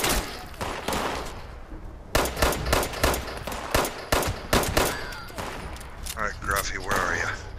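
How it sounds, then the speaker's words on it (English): Gunfire rattles through a Fallout 76 firefight aimed at the player, loud repeated shots in quick bursts, with other game sounds and talk mixed in. "these stupid guys with these freaking guns are shooting at me"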